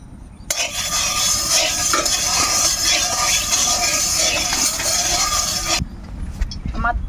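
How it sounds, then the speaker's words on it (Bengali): Hot oil hisses and sizzles in a pan as battered eggplant slices coated in semolina and gram flour go in to fry, a steady close crackle lasting several seconds before dropping off, with no speech over it. "তেলটা গরম হয়ে গেছে এবার আমি অল্প অল্প করে বেগুনগুলো ভেজে নেব"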